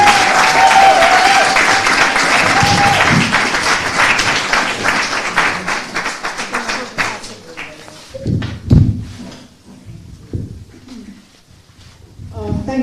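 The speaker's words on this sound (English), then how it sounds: "give a warm and rapturous round of applause" Warm applause from a live audience at a spoken-word and music event, dense clapping for several seconds that thins out into scattered claps and a few thuds before a voice begins.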